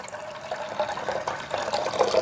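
Pre-boiled water pours into a pot for instant chicken ramen, a continuous close liquid stream rising slightly in pitch as it fills, no talking.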